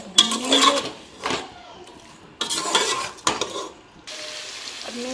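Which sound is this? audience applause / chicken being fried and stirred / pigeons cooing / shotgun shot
chicken being fried and stirred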